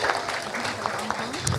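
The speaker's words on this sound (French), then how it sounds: "And that deserves a round of applause." Brief audience applause at an International Women's Day celebration, scattered clapping from a crowd heard at moderate distance with voices mixed in.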